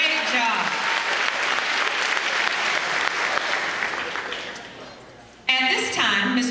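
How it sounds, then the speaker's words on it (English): Sustained loud applause from an audience at the 2014 Colleton County School District convocation, a dense steady clatter that fades briefly before surging back, with a voice cutting in near the end. "Let's give them another round of applause"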